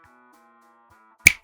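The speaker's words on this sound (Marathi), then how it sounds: "त्याने चुटकी वाजवतच तिला खाली उतरण्याचा इशारा केला." A single sharp finger snap cracks out near the end, loud and close after a quiet stretch with only a faint tonal background.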